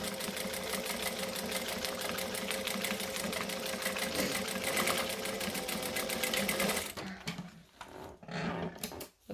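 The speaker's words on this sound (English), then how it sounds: "So I had to slow the machine down so that it wouldn't keep snapping the thread every 7 seconds." Sewing machine running steadily at slow speed, stitching through vinyl, a dense continuous whir with rapid needle ticks for about seven seconds before stopping, followed by faint handling noise.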